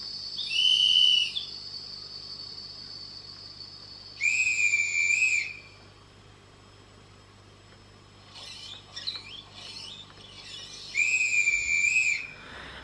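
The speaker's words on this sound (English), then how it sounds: "have a listen to how good this whistle sounds" Guard whistle from a Bachmann Class 350 model train sound decoder, several short shrill whistle blasts separated by pauses, with fainter chirping tones between them.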